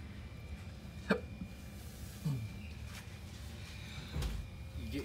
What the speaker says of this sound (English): Get your hiccups from me, I can tell you that.